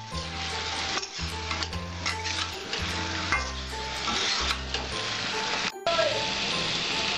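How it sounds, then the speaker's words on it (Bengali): Raw jackfruit stir-fries in a pan for a Bengali curd and prawn dish, giving a steady close sizzle with recurring scraping strokes under a continuous musical backing. "এইবার ইঁচড়গুলো দেওয়ার পর আমি 10 মিনিট ভালো করে কষাবো"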